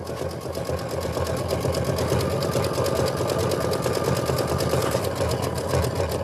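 An embroidery sewing machine stitching a Kimberbell lace design runs at a constant fast rhythm, its needle clatter loud and close and continuous throughout.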